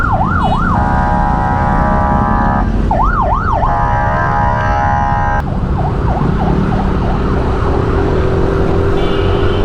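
A loud ambulance siren wails in rapid repeating sweeps close by, over a heavy rumble of traffic, then its tone shifts and fades toward the end.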